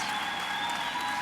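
A crowd at the 2012 ATA taekwondo competition applauds competitors in a steady, dense wash of clapping that lasts the whole short stretch.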